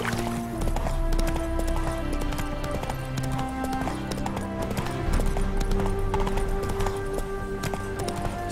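Roach, Geralt's horse in The Witcher 3: Hearts of Stone, clip-clops steadily through the whole stretch, with a brief whinny, all set against a continuous bed of game music.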